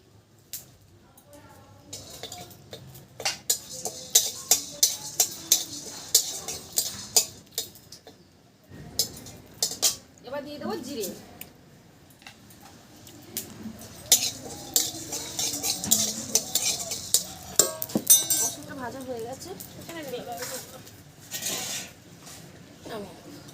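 Coriander frying in oil in a kadai, stirred with a metal utensil in a home kitchen: repeated clinks and scrapes against the pan, close and irregular, while a person talks throughout.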